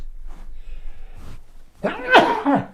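A single sharp sneeze bursts out loudly near the end, after a quiet stretch of faint breathy sounds.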